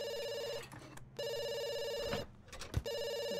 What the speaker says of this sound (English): Gotta answer the phone.